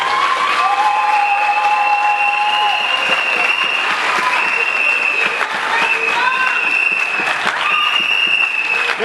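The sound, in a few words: audience applause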